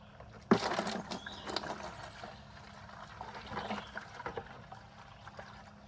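Well water trickles steadily into a 5-gallon bucket at a DIY off-grid well, a soft continuous splashing and dribble heard fairly close, with no voices.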